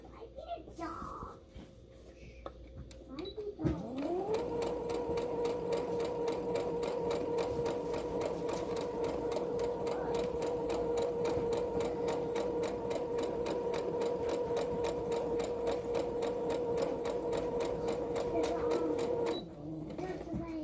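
A sewing machine stitches fabric for a face mask in a steady, close, continuous mechanical whir lasting most of the passage, starting after a brief pause and stopping near the end.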